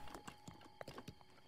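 Horse hooves clip-clop in a steady rhythm in Zelda: Breath of the Wild, with several crisp, close hoof strikes over a low game ambience and no talk.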